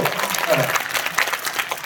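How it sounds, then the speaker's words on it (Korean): Audience applause at a Korean film live-talk event in a cinema: steady, dense clapping filling the whole moment, with faint voices mixed in. "박수 칠 거면 시원하게 치셔주세요"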